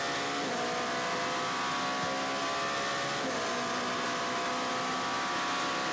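Race cars at Le Mans qualifying, including a Ferrari GT car, drone steadily at a distance with a continuous engine note and no clear pass-by peak, loud and unbroken for the whole stretch.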